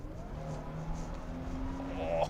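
A supercharged Holden Commodore in power mode accelerates, its engine note rising steadily in pitch and growing louder over about two seconds, heard from inside the car.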